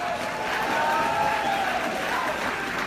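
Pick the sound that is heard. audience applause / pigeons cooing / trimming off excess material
audience applause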